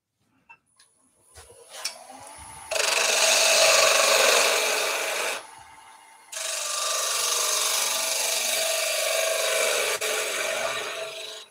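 Wood spinning on a lathe as the last of the material is cleaned away where the drive centre held it: two long, close, steady rasping scrapes separated by a short pause, with faint knocks beforehand.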